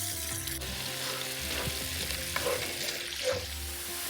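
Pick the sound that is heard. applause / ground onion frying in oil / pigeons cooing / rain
ground onion frying in oil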